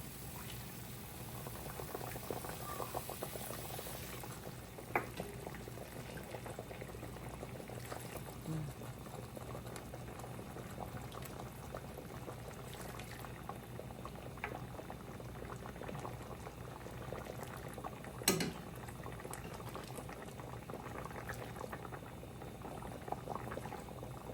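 Broth poured in while peanut butter sautés for beef kare kare, a soft continuous bubbling and simmering of liquid in the pot with a faint background hum and a brief clink near the end.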